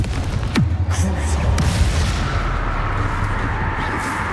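Spell blasts from Bombarda and Confringo in Hogwarts Legacy, with a sharp booming impact near the start and a second burst soon after, then a dense rumbling wash of explosion noise that carries on to the end.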